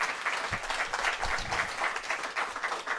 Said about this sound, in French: déjà on peut l'applaudir,